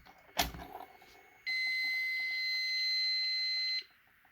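A fire alarm horn tested on a building alarm system gives a loud, steady electronic tone for about two seconds and then cuts off sharply, after a brief knock and faint clicks.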